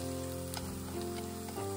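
Natto mixed with egg frying in a pan over lowered heat, a steady close sizzle with faint stirring scrapes, alone with no talk.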